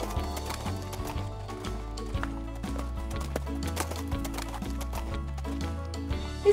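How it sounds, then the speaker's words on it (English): A horse trotting on a farm with a rider on its back, steady close clip-clop hoofbeats over a bouncy backing tune, with a brief whinny-like cue. "It's a horse."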